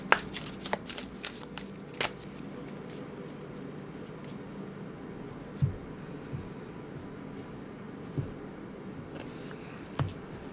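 A deck of tarot cards being shuffled by hand, with a brisk run of riffles and taps at the start, then quieter, steady shuffling broken by a few sharp slaps of the cards. Close and fairly soft, with no talking.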